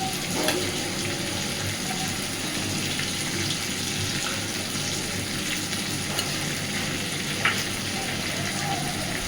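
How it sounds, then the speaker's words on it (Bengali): A ground paste of poppy seeds, mustard and green chilli goes into a hot pan for an egg posto dish, bringing a steady, watery sizzle that holds at an even level with a few faint clinks. "এইবার সেই বাটা মশলাটাও দিয়ে দিচ্ছি"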